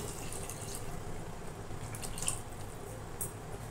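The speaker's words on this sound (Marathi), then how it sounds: "आता लगेच हे गरम पाणी घालून घेऊया" Hot water is poured into a cooking pot for spicy paya soup, a faint steady splashing pour at close range with a few small drips and no speech.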